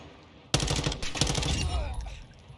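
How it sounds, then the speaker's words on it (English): Bursts of automatic gunfire in the Call of Duty DMZ game, sudden and loud, rattling on in rapid volleys with scattered single shots, no talk. "Someone was shooting me there."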